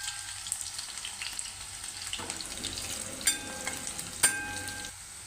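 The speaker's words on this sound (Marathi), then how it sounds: "मिरची व लसूण भाजलेला आहे" Green chillies and crushed garlic fry in hot oil for methi sabji, giving a steady close sizzle throughout with a couple of sharper clinks or pops near the end and no voices.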